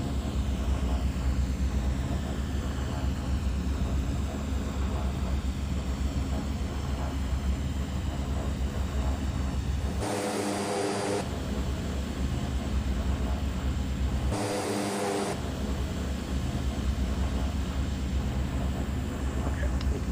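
A steady airplane engine drones on a runway in a flight game set on a West Caribbean cruise, a continuous even hum broken by two brief bursts of broadband noise.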